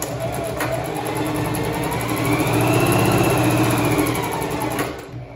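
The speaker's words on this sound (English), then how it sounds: "So I'm sewing up here," A sewing machine stitches steadily through several layers of fabric, a continuous close mechanical whir that swells a little in the middle and stops near the end.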